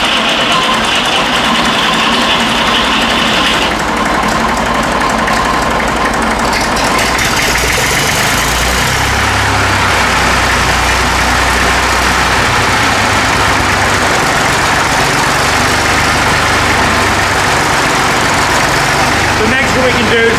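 Fordson Dexta tractor diesel engine running loud and close, a steady rough idle that rises when the throttle is worked, with someone talking over it.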